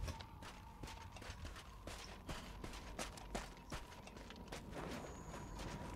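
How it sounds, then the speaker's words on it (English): Rapid hoofbeats of a demon horse in Monster Hunter World gallop in a steady clatter, faint and somewhat distant, with a low ambient rumble underneath. "Devin, I'm going to fight the demon horse."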